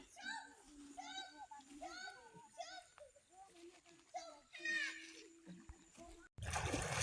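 Villagers bathing in rural water in a deep-forest village, with repeated splashing and sloshing close by under constant chatter from children and adults, ending in a louder burst of water noise.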